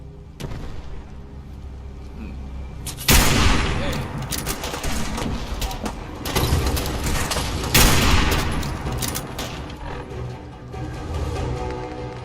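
Gunfire crackles in Fallout 4, loud bursts that swell sharply around the third and eighth seconds, mixed with shouting and combat noise over a steady background.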